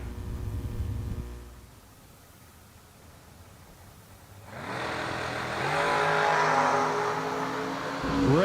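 Drag race cars, a Camaro and a Chevy II, roar off the line after a quieter idle stretch, engines building loud and sustained with rising revving pitch.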